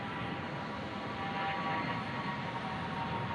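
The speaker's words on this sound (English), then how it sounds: "Ooh, listen to those old Airbus engines." Old Airbus jet engines roar steadily with a broad rushing hum at an airport, holding a constant level throughout with no voices over them.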